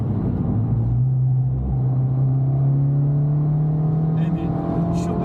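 An Abarth car's turbocharged engine accelerates with a loud, steady rising drone heard from inside the car, a rumbling whir that climbs gradually in pitch.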